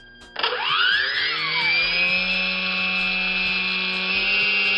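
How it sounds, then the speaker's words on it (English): The motor of an RC model powers up with a sharp onset and rises into a steady, loud whine with bright harmonics that hold close and even to the end. "We're going to bring the motor on up and start stirring the sticks"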